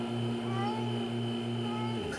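A cartoon cat stuck up a tree meows in one long, steady, tonal cry lasting about two seconds that cuts off abruptly, from an animated fire-truck rescue scene.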